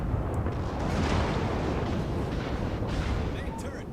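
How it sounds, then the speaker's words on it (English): A Montana battleship's main guns roar in a salvo in World of Warships, a heavy booming rumble rolling on for several seconds with a person talking over it. "And with that salvo, I get the Confederate achievement"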